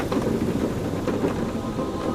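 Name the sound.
storm with thunder and rain in A Fisherman's Tale video game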